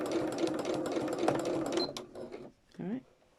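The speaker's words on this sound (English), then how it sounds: "I can lower my foot there, and then I can just stitch them now" A sewing machine stitches continuously in free motion embroidery, a steady rapid mechanical chatter that runs for about two seconds before stopping, with someone speaking over it and a brief voice afterward.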